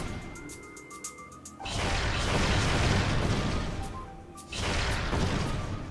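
A missile strikes a shield and explodes in the Metroid Prime video game, opening with faint electronic game tones before a loud, sustained blast roars for several seconds, then a second explosion bursts near the end.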